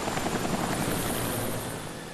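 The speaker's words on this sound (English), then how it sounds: "Knew I heard a chopper." A helicopter in the video game Dead Island Riptide drones steadily with a dense, rumbling rotor wash, loud and close at first and easing slightly toward the end, with no talking.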